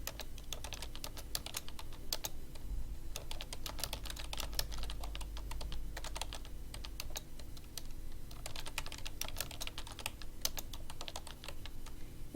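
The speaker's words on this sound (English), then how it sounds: "You can click anywhere on your document and just type." Steady typing on a computer keyboard, rapid close key clicks running throughout in an even rhythm with brief pauses, over a low hum.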